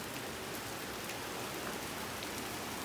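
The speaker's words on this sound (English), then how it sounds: "more rain just coming out" Steady rain pours outdoors, a dense, even hiss of drops hitting surfaces that holds at the same level throughout without pause.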